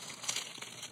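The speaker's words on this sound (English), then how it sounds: "Well, I'm just gonna rip it." A small plastic bag holding paint brushes is torn open by hand, giving a short, close burst of crinkling and tearing with no talking over it.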